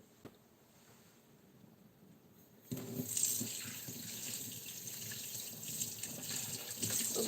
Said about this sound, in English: we're gonna come back to our fish, rinse it again